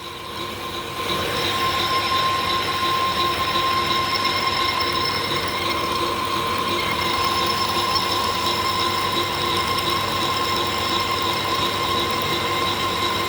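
A vintage metal lathe in a workshop runs steadily while cutting a main workpiece, giving a continuous mechanical whir with high, sustained tonal whines and a constant rattling texture throughout, with no talk.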